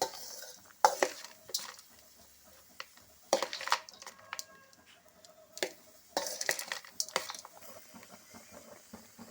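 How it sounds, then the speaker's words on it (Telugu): A spoon mashes lumpy cooked rice in a metal pot for tamarind rice, producing irregular scraping and knocking clusters separated by quiet gaps, close and fairly faint. "ఈ రైస్ అంతా ఇలా గడ్డలు గడ్డలుగా కాకుండా కాస్త విడివిడిగా అవ్వడం కోసం ఈ కరుళ్ళు ఉన్న చోట ఇలా నేను మెదుపుకుంటున్నానండి"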